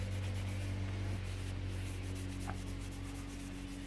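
Paint on a welding helmet is scuffed and rubbed by hand, making a quiet, continuous abrasive rubbing that goes on steadily, with no talking.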